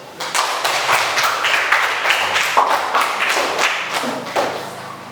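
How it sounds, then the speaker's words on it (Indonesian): A classroom of students applauds for several seconds with dense, fairly loud clapping, some of it landing as thumps. "Beri aplaus"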